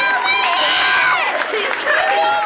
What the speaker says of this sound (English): Amidst a huge crowd gathered to welcome home the troops